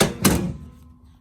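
A half door on a Polaris Ranger 1000 crew UTV, fitted with a door guide and spacers, shuts with one solid near thunk, followed by a fading low rattle and hum.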